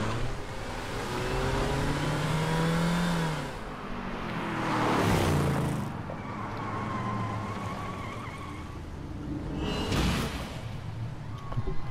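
A performance-spec Mini Cooper in The Crew revs and accelerates, its engine note climbing and falling through gear changes, loud and close, with tire and wind noise swelling between pulls.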